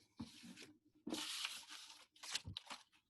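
Scissors cutting paper at an angle for a pop-up beak, three separate close, crisp snipping and slicing bursts with short silent gaps between them.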